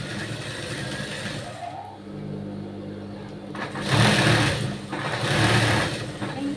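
A sewing machine stitches in a round around a blouse's back pot-neck, its motor humming loudly and steadily with a brief dip near two seconds, then running harder and louder in the second half.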